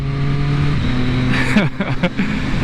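A 2014 Triumph Daytona 675R motorcycle engine runs loud and close with the throttle held wide open, its steady whine dropping sharply in pitch at each quick-shifter gear change before climbing again.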